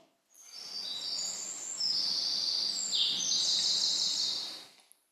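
One bird's recorded song plays as a single continuous phrase of bright, high warbling notes lasting about four seconds, clear and close, with a faint background hiss and no voices.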